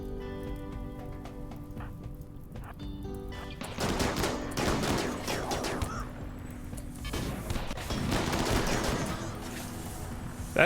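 Turrets in the RimWorld game fire in rapid crackling bursts, with dense volleys of clattering shots rising and falling over a background of steady game ambience.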